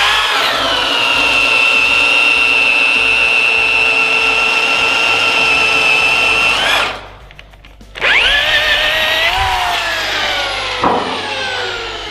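Power drill boring through a 4x4 wooden post, a loud steady whine with harmonics for several seconds, a brief drop as the bit breaks through, then the motor spinning back up and winding down.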